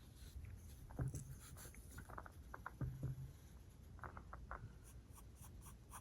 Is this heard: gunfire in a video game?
no